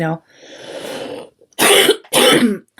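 A person coughs twice in loud, close, harsh bursts, following a short stretch of quieter voiced sound.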